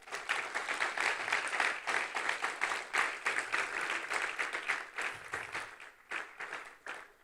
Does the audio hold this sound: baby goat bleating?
no